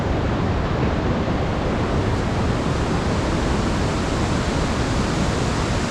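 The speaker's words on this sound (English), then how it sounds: "the sound of the gushing water" Gushing Himalayan mountain river water rushes near a suspension bridge on the Goechala trek in Sikkim, a loud, dense, unbroken roar filling the whole clip with no voices.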